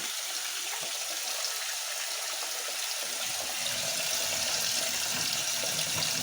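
GE washing machine filling its drum with water while loaded with full-size bath towels, a steady hissing rush of inflow that grows slightly fuller and louder partway through.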